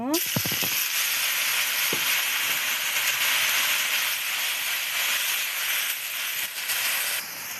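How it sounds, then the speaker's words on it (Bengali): Coriander leaves frying in hot oil, giving a loud continuous hissing sizzle close by, with a few brief utensil clinks near the start. "আমার ধনিয়ার পাতাটাও ভাজা হইল, আমি এখন নামিয়ে নেব।"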